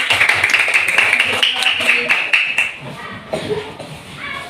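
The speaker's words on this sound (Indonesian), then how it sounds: "Tepuk tangan untuk Melani." Applause for a student named Melani in a classroom art lesson: scattered clapping from a group of children runs for a few seconds with voices talking over it, then fades into chatter.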